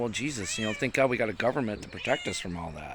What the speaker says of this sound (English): Excuse the cat in the background.